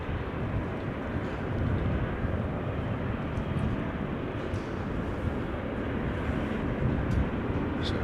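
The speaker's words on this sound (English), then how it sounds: "A220 that is taxiing to the threshold of 18 left." An Airbus A220 in Croatia livery taxiing toward runway 18 left at Amsterdam Schiphol, heard as a steady, fairly loud broadband engine rumble and whine that holds evenly throughout without breaks.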